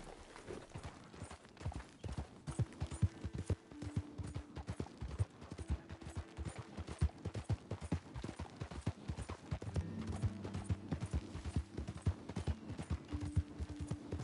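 Horse hooves clip-clop at a steady walking pace in Red Dead Redemption 2, a dense rhythmic clatter of hoofbeats, close and even, with faint tonal game music in the background.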